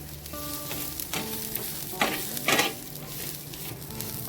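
Coriander seeds, garlic, ginger and onion sautéing in a pan, a steady sizzle broken by a few louder stirring scrapes and crackles, close and alone with no voices.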